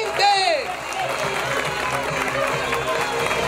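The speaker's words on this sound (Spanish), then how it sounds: "¡El aplauso, caramba!" Audience applause and crowd noise at a Mr. Músculo 2021 bodybuilding contest, a dense steady wash of clapping with a voice calling out briefly at the start.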